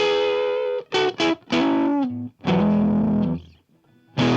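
An electric guitar distorted through the stock Ableton saturator plays a short phrase of crunchy chords and notes, each strum ringing briefly with buzzing, gritty overtones, then a gap before another chord at the end.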